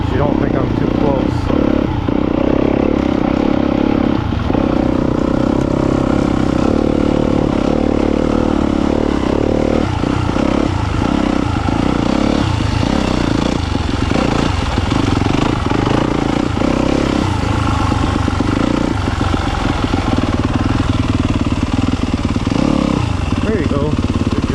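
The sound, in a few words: dirt bike riding through woods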